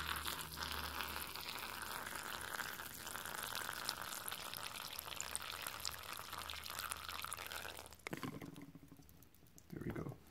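Water trickles and patters steadily into a pet enclosure, a soft continuous pour lasting several seconds before briefly stopping and resuming faintly.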